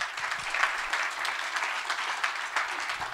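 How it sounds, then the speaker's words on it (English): A conference audience gives warm applause to an incoming panel moderator, many hands clapping in a steady, fairly even texture at moderate volume with no talking over it. "So a warm applause to Joanne."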